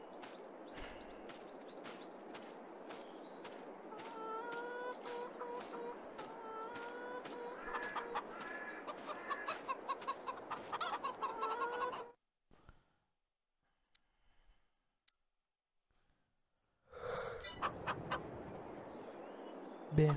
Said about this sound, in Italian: Le nostre galline.